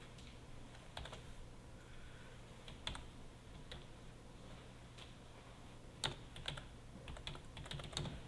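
Keys clatter in irregular bursts on a computer keyboard while text goes into the body of a first homepage, quiet and close, with steady soft background hum and no talking.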